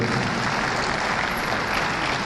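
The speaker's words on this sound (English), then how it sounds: "Please can we give him a resounding applause again?" A live audience at a South East venture capital programme event in Enugu gives a sustained round of applause, dense steady clapping filling the hall at an even level throughout.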